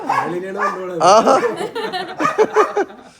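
A restless, agitated dog yapping and whining at close range during an outing, tangled with a person's voice talking over it in short bursts.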